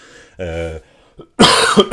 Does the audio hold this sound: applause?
no